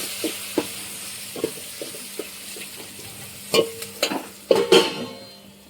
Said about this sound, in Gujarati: ડુંગળી બધું આપણે વ્યવસ્થિત સાંતળી લેવાનું છે